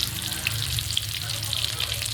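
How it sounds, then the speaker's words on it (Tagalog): Steady crackling sizzle of galunggong (scad) frying in hot oil, continuous and close, with a low hum underneath. "Prito muna ako ng galunggong."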